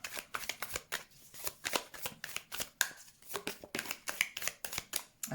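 Tarot cards are shuffled for a reading, a quick close run of crisp riffling snaps and soft slaps, fairly quiet, with no talk.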